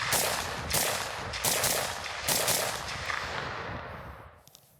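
Rifle shots from a PSA Super SASS fired at infinity targets 15 yards away, a handful of loud, sharp reports at uneven intervals, each trailing off in a long echo.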